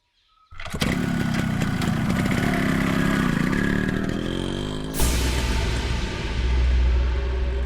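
A motorcycle engine fires up abruptly, runs with a loud steady drone, then surges as the bike pulls away, staying fairly close throughout with no voices.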